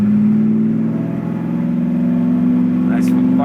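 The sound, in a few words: 1968 Camaro SS V8 engine revving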